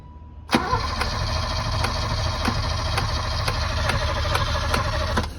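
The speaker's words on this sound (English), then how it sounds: "Está muy smooth el motor." An old, long-abandoned BMW E30 engine cranks briefly, then catches and runs at a steady idle with a rhythmic pulsing throb and faint ticking, loud and close throughout.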